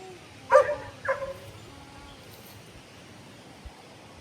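A dog gives two short barks close by, followed by quiet background noise.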